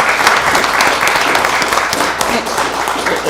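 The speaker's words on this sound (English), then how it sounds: "give you, for your vision, a round of applause also" Applause at a county board of commissioners meeting, a dense, loud burst of clapping from the audience that holds steady throughout.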